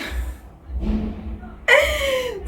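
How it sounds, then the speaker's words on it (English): Chickens and roosters are heard in the background, with soft low clucking early on, then a sudden loud rooster crow near the end that rings on for about a second. "don't mind those chicken and cocks always making noise on my background"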